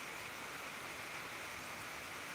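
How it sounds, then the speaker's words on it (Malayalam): Steady heavy rain pours down over hills and cardamom plantations in the late afternoon, a dense even hiss with no breaks and no voices, fairly faint and distant throughout. "നല്ല മഴ ഇങ്ങനെ പെയ്തുകൊണ്ടിരിക്കുന്നു"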